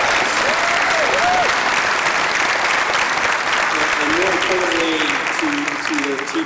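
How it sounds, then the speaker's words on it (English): Summit attendees at a digital government student showcase give the student presenters a big round of applause, loud continuous clapping from a crowd, with a few voices surfacing briefly under the noise. "Let's give these folks a big round of applause."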